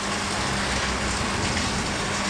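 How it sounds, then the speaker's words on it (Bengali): Heavy rain pours outside in a dense, steady hiss that stays loud and unbroken throughout, with no voices over it. "প্রচণ্ড বৃষ্টি হচ্ছে"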